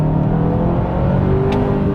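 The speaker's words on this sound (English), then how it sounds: "I'm gonna hit the gas a little bit real quick." A 2021 Kia Sorento SX Prestige X-Line accelerates, its engine a loud, steady low rumble and whir heard from inside the cabin, with a brief higher swell partway through.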